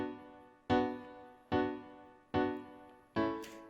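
Four evenly spaced, fully quantized reggae keyboard chords from a stock Logic Pro X instrument, each struck sharply and decaying, in a rigid, perfectly even rhythm with nothing else playing.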